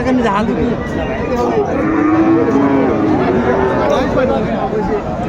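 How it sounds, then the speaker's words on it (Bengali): Cattle at a cattle market moo loudly and close by in one long drawn-out low call, with people talking alongside. "দেখছিলাম গরুটি দেখছেন এখানে"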